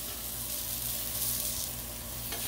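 Smashburgers sizzle on a hot Blackstone griddle in a loud, steady hiss that runs unbroken throughout, close and alone with no talk.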